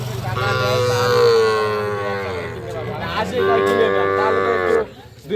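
Sahiwal bull calves at a Cox's Bazar cattle market give two long, loud, close moos one after another, each drawn out for a couple of seconds.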